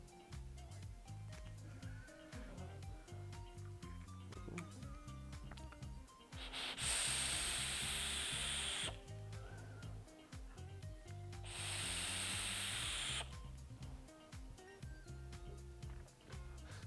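Air drawn through a Royal Hunter X RDA by COV with a fused Clapton coil at 0.14 ohm and 75 watts gives two loud, steady hissing pulls of about two seconds each, set apart by quieter background sound.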